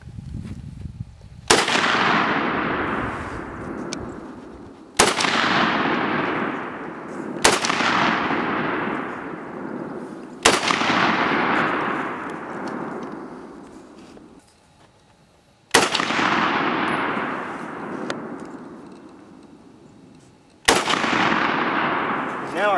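Springfield M1A (M14) rifle firing at targets downhill on a ranch, six loud, sharp shots spaced a few seconds apart, each leaving a long echoing decay across open ground.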